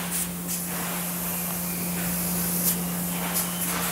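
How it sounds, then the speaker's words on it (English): Spray gun laying a two-part rugged black coating onto a truck bed cover set flat on a factory table, a steady close hiss running throughout over a constant low electrical hum. "It's just like spraying paint, but it's a much different process than paint."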